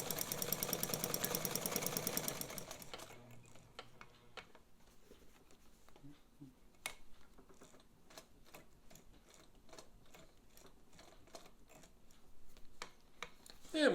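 A Necchi BU Mira sewing machine runs in quick bursts of steady mechanical ticking and whirring, a loud motor rush at the start, then quieter stitching clicks at close range.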